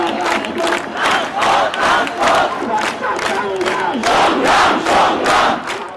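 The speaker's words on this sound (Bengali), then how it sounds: "প্ল্যাকার্ড হাতে স্লোগান দিচ্ছেন তারা" University students at a street protest chant slogans in unison, a loud crowd of voices rising and falling in rhythmic waves, close and continuous.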